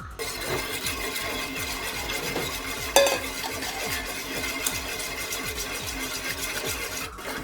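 A spoon stirring a mixture into milk in a pot for two-layer pineapple milk pudding, with quick repeated scraping strokes and light clinks at an even rhythm, close and clear, with one sharper knock midway.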